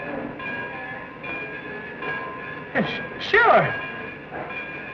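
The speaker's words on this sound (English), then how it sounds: "The train's ready to pull out." A train stands ready to pull out in a 1935 film scene, with a steady rail rumble and a sudden loud squeal or whistle, while someone speaks briefly over it.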